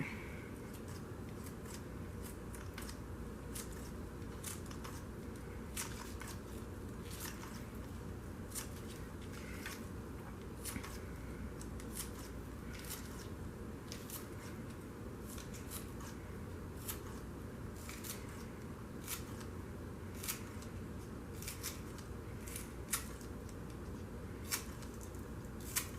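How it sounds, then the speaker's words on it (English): Garden green onions are cut up in a kitchen with a quiet, close series of crisp snips repeating at a steady pace over a low background hum. "I've got some green onions from the garden. So I'm going to cut them up."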